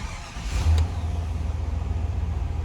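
A used truck's engine cranks and catches, then settles into a steady, even idle with a rhythmic low pulse, close and fairly loud, with no talking.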